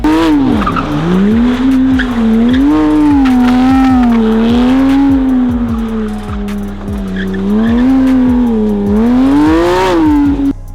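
A loud, tuned Porsche GT3 RS engine with an aftermarket exhaust revs hard and continuously, its pitch rising and falling, with a harsh, rasping exhaust note.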